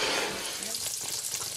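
Eggplant slices frying in olive oil in a small pan on high heat, a close crackling sizzle with faint stirring, and a voice briefly speaking over it.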